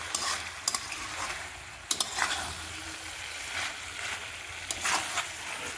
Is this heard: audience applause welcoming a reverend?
no